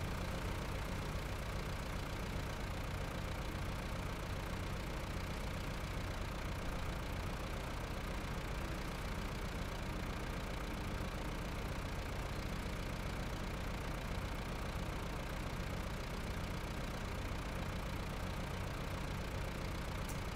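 Truck engines idle in the video game SnowRunner, a continuous dense rumble holding steady throughout with no voices.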